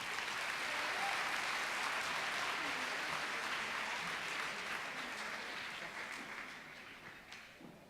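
Audience applause for student award winners at a school district recognition night: sustained clapping from a sizable crowd indoors, steady and then gradually tapering off.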